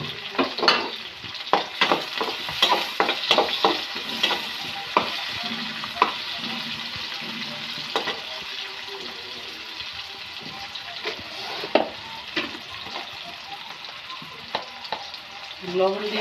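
Onions sizzle and fry in hot oil in a pan for a potato and egg curry, a continuous close crackle punctuated by frequent sharp scraping stirs.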